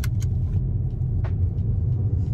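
Steady low rumble of a car in motion heard from inside the cabin, with a few faint clicks and ticks over the engine and road noise.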